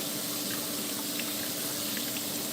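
A wash rag is rinsed under running tap water in a kitchen sink, a steady close hiss and splash of flowing water throughout, with no talk.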